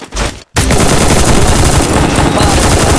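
Gunfire during a battle royale game fight, heard as loud, dense, continuous automatic bursts that begin after a short pause and keep going without letup, close and dominant, with no talk.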